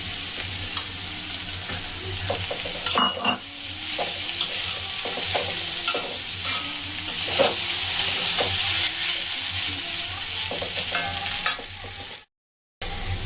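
Potatoes and chopped green chilli fry in a pan with a loud, continuous sizzle, broken by repeated scraping stirs and clatter, ending in a brief silence.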